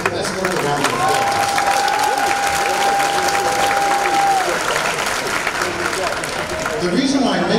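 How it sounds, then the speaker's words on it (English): Audience at a middle school graduation ceremony gives a sustained round of applause, a dense steady wash of clapping with a faint crowd murmur and a held tone running through it. "That's worth a round of applause."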